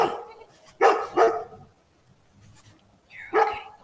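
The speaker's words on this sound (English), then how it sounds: "Ooh, big doggy." A big dog barks three times nearby, two quick deep woofs close together and then a third after a pause, loud and alone in an indoor setting.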